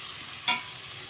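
A paste of onion, green chilli, ginger and whole cumin fries in a pan for a katla fish curry, a soft steady sizzle with one brief louder stirring scrape.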